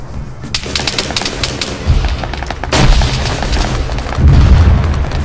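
Gunfire in Arma 3, a military shooter, with repeated sharp shots in a rapid burst early on, then heavier booming blasts that build louder toward the end, close and dense with no talk.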